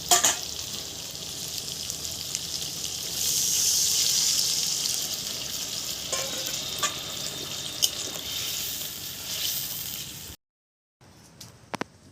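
Water poured into a pan of oil-fried potatoes and spices, a steady loud hiss and sizzle that swells midway, with faint clinks, then cuts off briefly before a quieter simmer returns.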